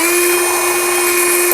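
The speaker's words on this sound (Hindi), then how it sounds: "अब हम लोग क्या करेंगे, इससे ड्रिल कर लेते हैं।" A surgical power drill runs continuously, boring into a femur during distal femur intramedullary nailing, a loud, steady, high-pitched whine with a constant tone and no pauses or voices.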